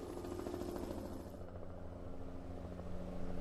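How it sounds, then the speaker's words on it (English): A firefighting helicopter flies over a forest fire, its rotor a steady droning whir at moderate distance, thinning slightly partway through, with no talk. "Is that a helicopter flying through the smoke?"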